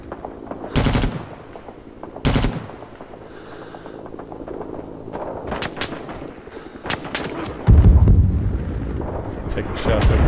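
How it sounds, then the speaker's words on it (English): Loud bursts of machine-gun and rifle fire from the Vietnam War shooter game Rising Storm 2: Vietnam, with heavy booms and crackling shots spread across the scene and a voice talking briefly between them. "Taking shots over from the right."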